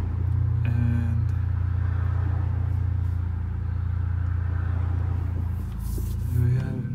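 A 2019–2020 Honda Accord Sport 1.5T with a tuned exhaust drones with a steady, loud low rumble that swells slightly as it moves, with road noise mixed in.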